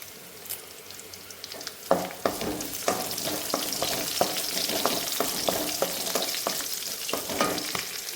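Green chillies and curry leaves sizzle steadily in hot oil for a Kerala-style pumpkin thoran, with a constant crackling hiss and repeated sharp spatters and clicks of stirring throughout.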